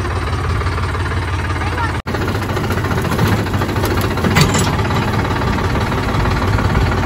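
A tractor engine idles nearby with a loud, steady low rumble and slight knocking vibration that hardly changes, briefly cut by a short dropout, with faint voices in the background.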